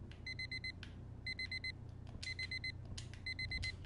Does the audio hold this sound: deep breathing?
no